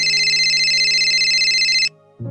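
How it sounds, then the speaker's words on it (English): A telephone rings with a steady, loud electronic tone for almost two seconds, stops abruptly, and is followed by a short low sound. "I get a phone call"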